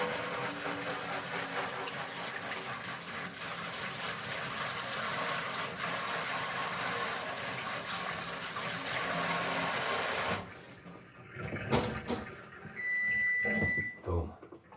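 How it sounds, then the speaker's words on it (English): Tap water running steadily into a kitchen sink while hands are washed during meal prep, a loud continuous gush that stops abruptly, followed by a few clatters and brief sounds. "I'll just wash my hands real quick"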